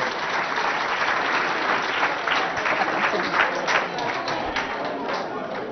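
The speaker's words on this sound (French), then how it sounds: "On applaudit très très fort." Sustained applause from a school audience at a quiz competition, dense steady clapping throughout with crowd murmur, fairly close and loud.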